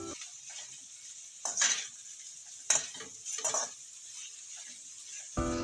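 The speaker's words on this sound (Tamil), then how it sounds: "கடாயை அடுப்பில் வச்சு பவக்காயை மட்டும் போட்டு நல்லா வதக்கிப்போம்" Chopped bitter gourd sautéing in a kadai, with a faint background sizzle broken by three or four short stirring scrapes of a spatula, close and quiet.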